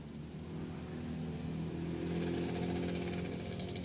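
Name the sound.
motorcycle passing by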